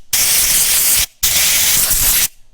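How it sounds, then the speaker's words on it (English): Compressed air blasts into a Jeep Wrangler JL Sky One-Touch power soft top, blowing out dirt in two loud, steady hissing bursts of about a second each, separated by a short pause. "I've used this trick before, just compressed air."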